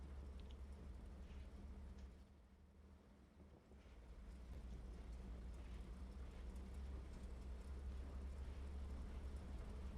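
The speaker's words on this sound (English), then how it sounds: "Bylaw starting the engine, might be moving soon." A tank engine rumbles in the WWII shooter Hell Let Loose near Carentan, a low, steady drone that dips briefly then settles into a continuous quiet hum in the distance.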